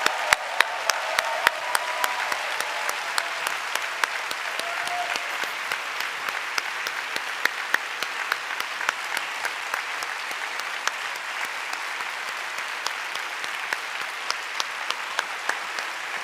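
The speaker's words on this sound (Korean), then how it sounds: "박수로 축복하면 좋겠습니다." A church congregation applauds steadily during a Sunday worship service for the next generation, a broad, even wash of clapping that holds for the whole stretch with no voices over it.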